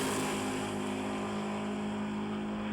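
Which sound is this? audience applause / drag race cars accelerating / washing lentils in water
drag race cars accelerating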